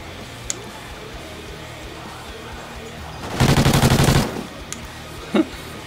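A burst of rapid automatic gunfire from Call of Duty: Ghosts multiplayer lasts just under a second, loud and close, with a few isolated single shots before and after.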